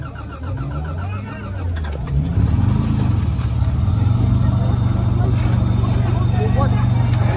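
A rally car, the third starter at a trophy sprint stage, rumbles loudly and revs up as it pulls away near the listener, with spectators talking and calling over the engine.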